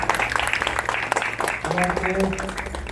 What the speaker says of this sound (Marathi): त्यांचा सगळ्यांनी टाळ्या वाजवा